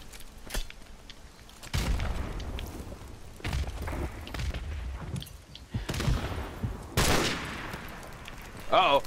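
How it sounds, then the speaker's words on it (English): Rapid bursts of automatic gunfire and heavy shots crackle through a Call of Duty match, coming in dense volleys with loud impacts at intervals, while players talk over the action. "Uh-oh, they're shooting."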